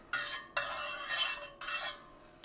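A spoon stirring rose essence into gulab jamun sugar syrup in a metal pan, three bursts of scraping and clinking in a quiet kitchen with no talking.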